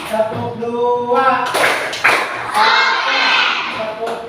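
A classroom of children doing a rhythmic spirit-clapping routine, sharp bursts of claps landing among a teacher's spoken cues and children's voices, close and lively.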